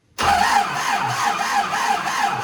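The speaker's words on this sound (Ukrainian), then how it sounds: "Коля, я ж оце хотів у вас питати, чого в нас заводиться так погано МТ-зон?" An old MTZ tractor engine in the snow starts up abruptly after silence, catching at once into a loud, close, rough mid-pitched diesel clatter that runs steadily with slight surges, no voices.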